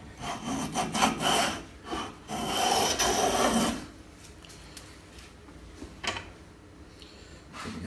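Several quick rasping strokes of a hand plane taking a deep cut with the grain, followed by one long swish, then quieter scrapes and a short final pass.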